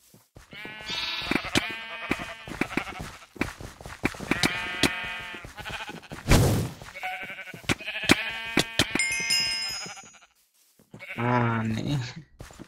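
Sheep are being caught and bleat loudly and repeatedly, in several harsh cries that overlap, heard up close with rustling and scuffling between the calls.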